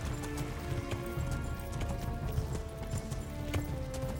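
Horse hooves clip-clop steadily in the video game Kingdom Come, an even walking rhythm of faint hoof falls over low ambient game sound, with an occasional whinny.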